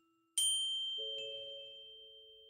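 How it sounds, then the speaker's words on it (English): A small handheld bell rings once, a bright clear strike that lingers and slowly fades, followed by a softer second chime, heard alone without any talk. "the sound we had heard was from a bell she was holding"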